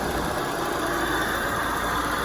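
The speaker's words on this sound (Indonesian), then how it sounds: "Suaranya gemuruh di lahar kompresor." A steady mechanical rumble and whir from a Peugeot 306's air conditioning compressor with a worn bearing, constant and close, with no voices.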